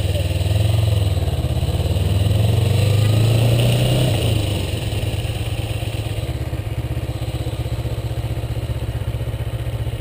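A Kawasaki Ninja motorcycle idling close by, its engine steady and rumbling with a clattering rattle running through it, and the pitch shifts and settles partway through.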